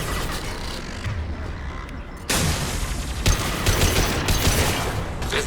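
Dense, continuous gunfire and booming impacts in the video game Mass Effect 2 form a loud, unbroken wall of combat noise, with a sharp jump in intensity partway through.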